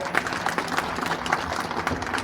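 A crowd at a Bhagavat katha in Amravati applauds the harmonium-playing singer with brisk, steady clapping that runs throughout.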